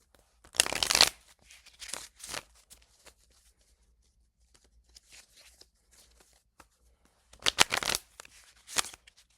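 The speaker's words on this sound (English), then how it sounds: "Let's shuffle the other half." A deck of reading cards is shuffled by hand in two quick, crisp riffling bursts, with a few softer card flicks between them. The sound is close and set against a quiet room, with no talking.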